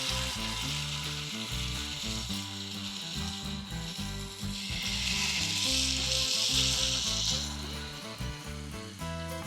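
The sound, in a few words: chicken malai kababs frying in hot ghee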